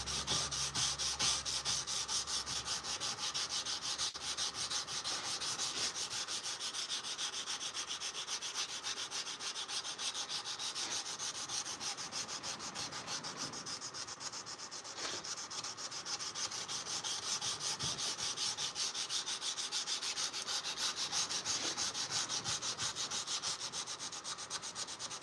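A steel knife blade is hand sanded in steady, rapid back-and-forth strokes, a continuous close abrasive rasping that runs unbroken throughout with no voices.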